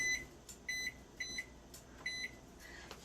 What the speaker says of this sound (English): We're going to set our timer.